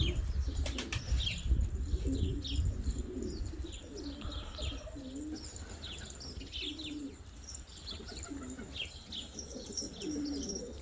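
Pigeons coo in low, repeated murmurs while wings flap in bursts, with chirps from smaller birds scattered through; fairly close and steady.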